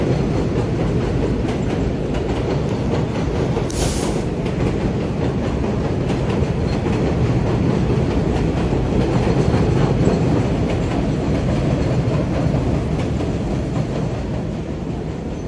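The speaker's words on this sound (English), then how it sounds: "Here comes the train." A New York City subway train pulls into the station, a loud steady rumble of wheels and rails with clattering and a brief high squeal, filling the whole stretch with no talk.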